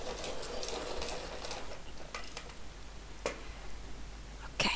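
A spring green colored pencil being turned in a sharpener, giving a steady, close grinding rasp with rhythmic ticking strokes throughout, with no talk.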